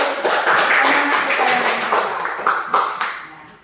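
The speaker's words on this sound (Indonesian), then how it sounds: "tepuk tangan dulu" A classroom of pupils claps hands together in a dense, steady patter of many overlapping slaps, fairly loud and close, tapering off toward the end with no talking over it.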